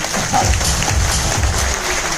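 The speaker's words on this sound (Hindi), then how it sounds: "एक बार तालियां हो जाए" Audience applause at a speech event, a steady roomful of clapping heard fairly close, with a low rhythmic thumping underneath, lasting briefly.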